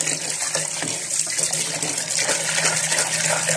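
Hot water runs steadily from a tap for washing dried fava beans in a kitchen, a continuous close gushing splash with no talking.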